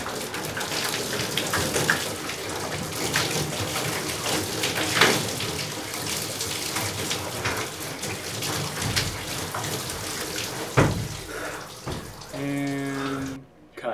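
Shower water runs steadily in an apartment bathroom, a dense hissing spray that continues throughout without pause, with a brief louder splash near the end.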